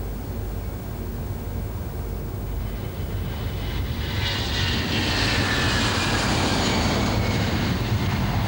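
An Airbus A320's engines spool up to takeoff power on the runway, a loud, broad roar that swells and brightens partway through and then holds steady, with no voices.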